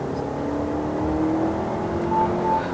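Inside a 2023 Chery Tiggo 8 Pro with its 2.0-litre turbo engine, pushed hard on the throttle to overtake on a Malaysian road; a steady, droning engine and road hum fills the cabin and swells slightly toward the end.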